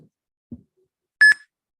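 Two soft thuds, then a single short electronic competition buzzer tone sounds clearly in near silence.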